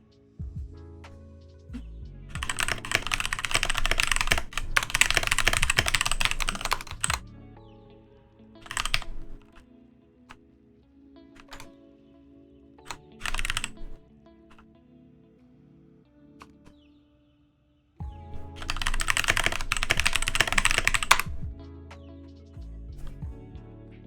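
Bursts of fast clicking on a computer keyboard, two long loud runs at the start and end with a few short taps between, heard close with quiet gaps.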